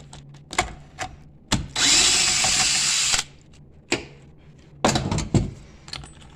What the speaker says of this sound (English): go ahead and remove these 10 millimeter bolts